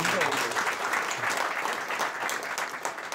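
Members at a golf club's president inauguration ceremony give a brief round of steady applause, filling about three seconds.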